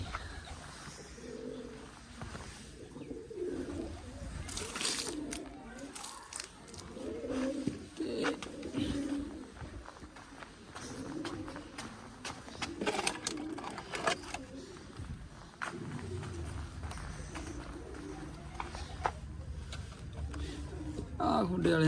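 Pigeons coo softly in a loft where birds are kept and fed grain, with low murmuring calls recurring throughout, mixed with rustling and nearby voices talking.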